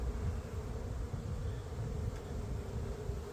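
A steady, dense buzzing of many honeybees close by around an open hive during inspection, continuous and fairly loud with no voices.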